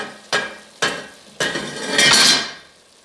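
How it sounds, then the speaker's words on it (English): A metal lid dropping onto a stovetop beside a pot of red wine beef stew, three sharp clanks in quick succession followed by a longer ringing, rattling settle that fades out, loud and close. "That was my lid falling."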